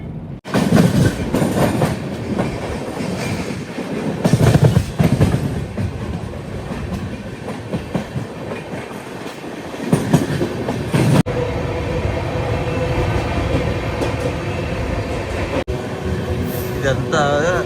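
The Telangana Express, a passenger train, pulls away and rolls steadily along the rails with rumbling wheels and occasional clacks, while someone talks over it close by.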